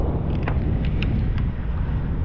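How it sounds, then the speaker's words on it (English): Strong wind buffets the microphone at a backwoods truck stop, a loud continuous roar with a few faint clicks above it and no talk. "God dang, it's windy."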